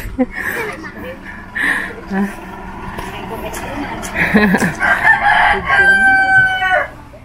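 Chickens cluck and a rooster crows several times, close by, with people talking in between.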